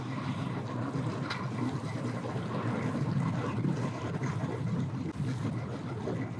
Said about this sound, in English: Another bass boat in.